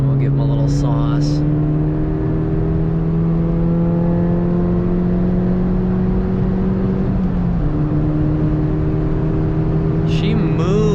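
A budget turbocharged hot hatch accelerates hard, its engine note climbing steadily through a long pull, dipping briefly at a gear change, then rising again, loud and close from inside the car.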